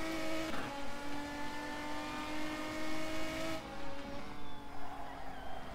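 A Renault Megane Trophy race car in the rFactor 2 racing sim holds a steady, loud engine drone with tonal harmonics that shift pitch partway through, running continuously without talk.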